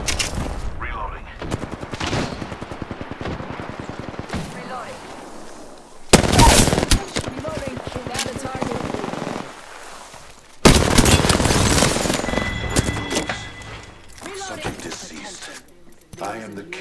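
Rapid automatic gunfire in the Apex Legends video game, loud bursts of machine-gun fire in several clusters with short pauses between them, interrupted by sharper heavy blasts, with voices talking over parts of it.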